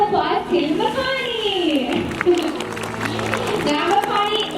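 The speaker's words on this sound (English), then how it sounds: "Let's give a big round of applause to Makani!" A SeaWorld Orca Encounter stadium audience claps and cheers for the young orca Makani, with a crowd roar and scattered applause under loud, sweeping announcer talk and music.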